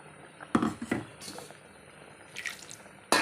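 Coconut milk is poured into a mango fish curry in the pan, giving a few soft, brief splashy drips spaced apart, with quiet kitchen background between them and no talking.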